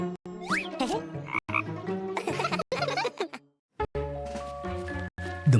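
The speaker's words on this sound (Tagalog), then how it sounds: "Isang palaka!" Several frog croaks, close and clear, with rippling, chirpy calls in bursts separated by short silences.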